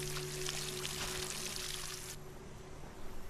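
Plants are watered in the Solarpunk crafting survival game, making a steady pouring, splashing rush of water that cuts off sharply partway through, leaving quieter trickling afterwards.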